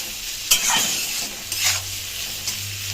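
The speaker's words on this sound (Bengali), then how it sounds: "এবার আমি সব সবজিগুলো ভেজে নেব।" Vegetables including capsicum fry in a pan for restaurant-style fried rice, with a steady sizzle broken by three scraping stirs about a second apart, close and fairly loud, and no talk.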